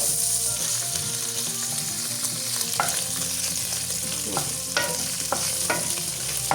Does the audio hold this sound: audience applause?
no